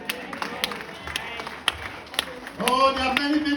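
A church congregation applauds in scattered claps that swell into a fuller, louder round, with a voice speaking over the clapping.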